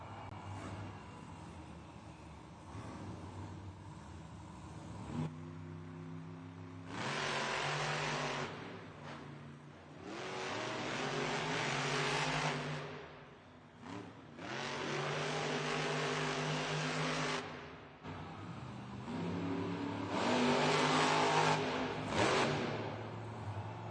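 Monster trucks, including Monster Mutt Dalmatian, rev hard in JCB Racing at a Monster Jam arena show in Des Moines; quieter idle gives way to repeated loud acceleration bursts with climbing engine pitch, echoing in the arena.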